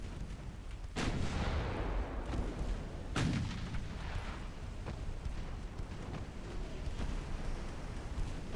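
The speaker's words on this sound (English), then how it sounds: "Torpedo detonation, you'll love to see it." In the naval warfare game Ultimate Admiral Dreadnoughts, heavy booming blasts from a torpedo detonation and gunfire sit over a constant rumbling battle din, with two strong explosions standing out early.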